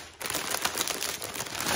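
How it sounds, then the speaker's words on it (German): A 125-gram bag of Smoky BBQ Style oven chips is torn open, a brief burst of crinkly plastic rustling and crackling up close. "Jetzt mache ich gleich mal die Tüte auf."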